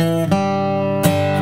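Bluegrass G run on acoustic guitar, picked through note by note rather than strummed; a few close, clean notes ring out and sustain, heard alone with no talking.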